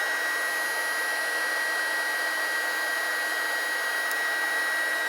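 A heat gun shrinks a Haisstronica heat shrink wire connector with a steady, loud blowing whine that holds constant throughout.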